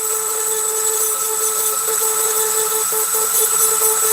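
Rotary tool fitted with a small ball burr carves fine detail into wood, giving a steady high-pitched whine with a constant tone and light grinding texture, close and continuous with no talking.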